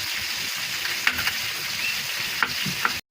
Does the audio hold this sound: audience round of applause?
no